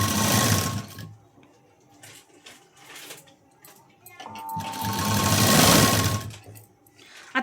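Sewing machine stitching a cross strip of cloth, two bursts of rapid mechanical whirring about a second and two seconds long, close and loud, with a pause of quieter handling in between.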